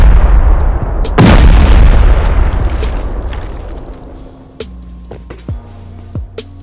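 A C4 charge detonates against a base wall in Rust with a loud, close boom that rumbles and fades over several seconds, followed by a few scattered clicks and thuds.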